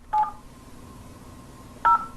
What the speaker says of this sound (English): The phone, connected to the internet, dials just like a regular phone.